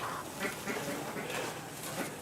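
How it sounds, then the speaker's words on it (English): Young ducklings make a run of soft, overlapping quacks and peeps close by, high-pitched and busy, with no talking. "These ducks are just about ready to go out with the big ducks"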